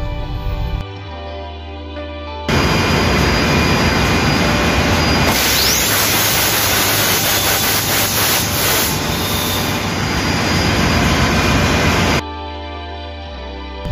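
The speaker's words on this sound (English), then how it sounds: "And push the start button 2 to 3 seconds for air blow." A ship's generator engine on board takes an air blow after its start button is pressed, giving a loud, steady rushing roar of compressed air that lasts about ten seconds, close by, over a lower engine-room hum.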